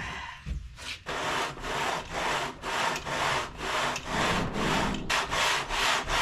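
An engine part surface is sanded by hand with sandpaper and ATF, producing a steady back-and-forth rasping rhythm of even strokes, close and moderately quiet with no voices.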